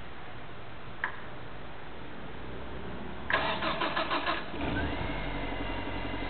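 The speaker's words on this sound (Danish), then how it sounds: "Så starter bilen." A car engine starts by remote start from an Intech car alarm, a short beep followed by a rapid cranking burst, then the engine catches and settles into a steady near idle.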